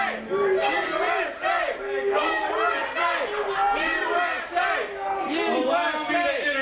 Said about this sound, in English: The crowd giving him the business as usual.